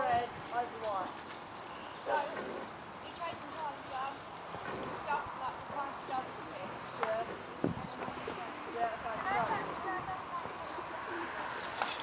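Ponies' hooves clip-clop irregularly at a moderate distance outdoors, mixed with pigeons cooing nearby and people chatting throughout.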